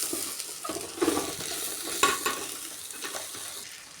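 Onions sautéing with oil-fried coconut in a pan for a beef dish, with a soft steady sizzle and a few scraping stirs, close and fairly quiet, no talk.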